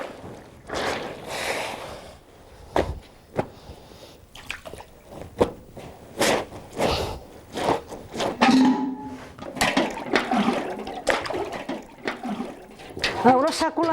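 Water poured out of a container while preparing an azulete (bluing) pigment soak for whitening laundry, with sloshing, dripping and splashing at close range in bursts, mixed with handling noises and intermittent talk.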